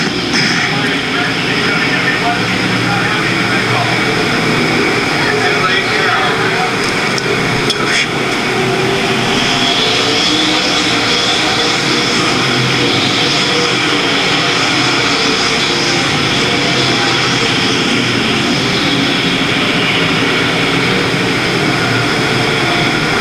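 Race cars roar continuously around RPM Speedway in Hays, Kansas, during the Fall Nationals, a loud sustained engine drone with a commentator's voice talking over it throughout.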